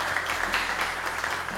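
Studio audience applauding to welcome a contestant onto a French game show set, a steady wash of clapping that holds at an even level throughout the short stretch with no voices over it.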